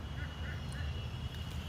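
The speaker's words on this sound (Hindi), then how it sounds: "ये आवाज़ आ रही थी तो मैंने जाके देखा तो यहाँ पर दो तीन बतखें हैं" Several young ducklings trapped in a drain give faint, thin calls scattered through steady background noise, never rising much above the surrounding hum.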